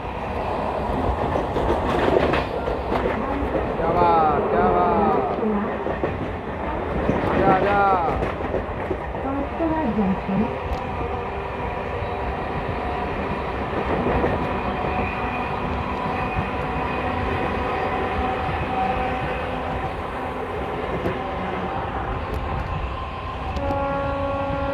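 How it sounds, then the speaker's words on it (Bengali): Local MEMU passenger trains near Mecheda station in West Bengal run side by side on a foggy morning, a steady rumbling rail roar with clattering wheels throughout, under scattered voices. "বন্ধুরা এখানে লোকাল ট্রেনের রেসটা দেখুন।"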